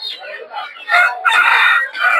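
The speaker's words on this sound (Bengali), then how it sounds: "দেখতে পাচ্ছেন দেশি মোরগ" A local deshi rooster at a village poultry market crows loudly and close by, one long drawn-out call with stuttering starts, with no other sounds.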